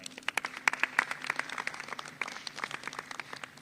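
An audience at a press conference gives scattered, uneven clapping in welcome of Governor Ron DeSantis, individual claps popping sharply, loose and moderately close.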